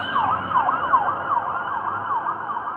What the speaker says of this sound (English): They got police sirens.